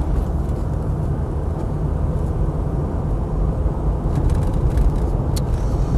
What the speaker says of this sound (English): All the drivetrain feels really nice and quiet on this one.